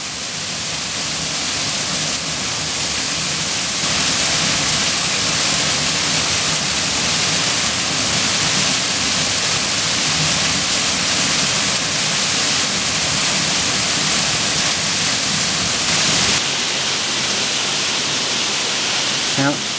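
A waterfall in the Narrows of Zion National Park pours with a dense, continuous roar that stays loud and close for the whole stretch, with no clear voices over it.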